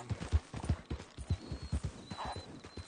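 Horse hooves clip-clop in a clear, uneven rhythm, loud and close, slowing as the horse is brought to a stop.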